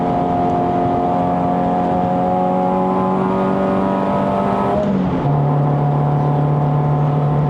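A Proton Satria Neo's 1.6-litre Campro engine climbs a mountain road, a steady loud drone held high in the revs, then it drops pitch abruptly on an upshift and settles into a lower, even hum, with no one talking.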